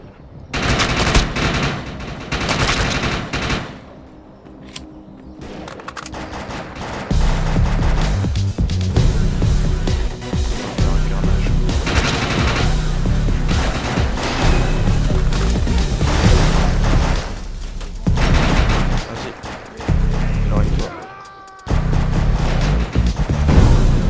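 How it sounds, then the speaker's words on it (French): Gunfire in the video game Defiance blowing up crates during a mission, loud dense bursts of automatic fire with sharp cracks and crashing impacts, nearly continuous for most of the stretch with a few brief pauses. "le but de la mission là sera de faire exploser les caisses qui sont là"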